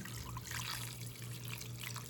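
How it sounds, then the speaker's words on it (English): Tap water runs steadily to fill a cooking pot for beef ramen, a continuous soft splashing hiss at close range with a low hum underneath. "I'm gonna get some more water because we need to cover it all the way"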